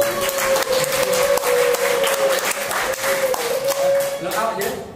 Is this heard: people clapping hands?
yes